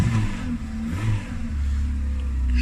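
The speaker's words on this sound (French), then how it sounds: "C'est simplement que j'ai pas encore mis mon filtre à air, donc ça fait un petit bruit stylé comme ça." Peugeot 206 with a 1.4 TU petrol engine running with no air filter fitted, giving a loud, close, throaty intake roar as the revs rise and fall, then hold steady.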